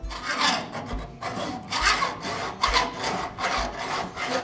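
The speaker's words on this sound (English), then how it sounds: "I'm breaking out the hacksaw" A hand hacksaw cuts through metal in a custom car garage, steady rhythmic rasping back-and-forth strokes, close and moderately loud, about five strokes with brief pauses between.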